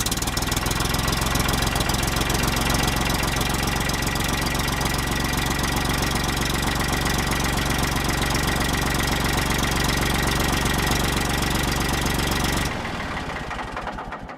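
Backhoe tractor's engine cranks and runs loud and close, a steady rough diesel idle with knocking vibration throughout, dropping off sharply near the end as it shuts down.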